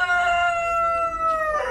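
A single rooster crows nearby at a bird park, one drawn-out, raspy call that holds steady and then lifts slightly at the end.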